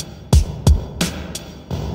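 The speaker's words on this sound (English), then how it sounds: "And now only the reverb signal." Wet-only reverb output from a teenage engineering KO II sampler, four short percussive hits with low thumps, each trailing into a diffuse washy tail that sustains between the hits.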